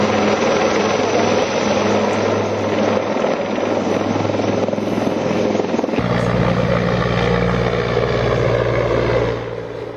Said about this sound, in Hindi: एनआईए के हेलीकॉप्टर आप देख रहे हैं, पहलगाम में उतरा